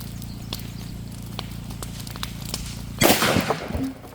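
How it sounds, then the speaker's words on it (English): One sharp, loud gunshot cracks out in the open as a shooter fires at a can with a shotgun or .22. The report follows a few seconds of quiet outdoor ticks and rustles, then fades quickly. "I'm gonna shoot for that can right there"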